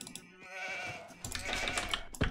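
Sheep bleating in the strategy game Age of Empires II, several short wavering bleats close together over game sound effects, with no talk.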